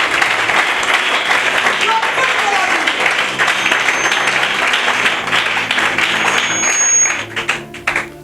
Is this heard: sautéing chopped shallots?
no